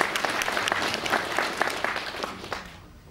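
A concert audience applauds a performer. Dense, even clapping carries at moderate volume for about three seconds, then fades out at the end.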